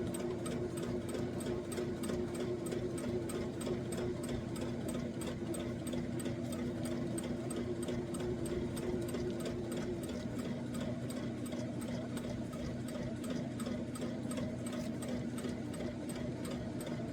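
A sewing machine stitches across the bottom of a fabric ruler holder in one long, even run, its rapid rhythmic needle chatter close and steady throughout.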